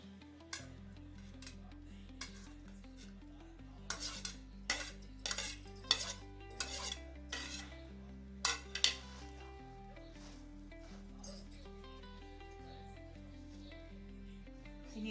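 A spoon stirs a mixed-lentil appe batter with onion, carrot and coriander in a metal bowl, giving irregular clinks and scrapes, clustered in the middle and close, over steady background music with no talking.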